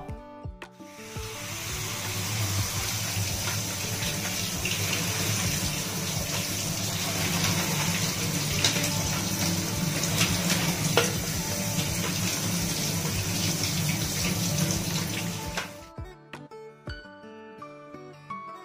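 Eggs are rinsed under a steady, loud rush of running tap water for about fifteen seconds before the flow cuts off, leaving brief faint clinks.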